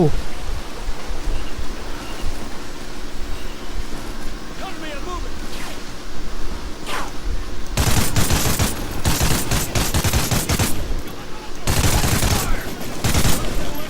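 Bursts of rapid gunfire in Call of Duty: Ghosts, with dense volleys in the second half and voices talking over the shooting.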